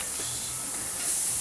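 Chicken wings for spicy Bangkok-style fire wings fry in a pan over low to medium heat, making a continuous, even sizzling hiss up close with no breaks.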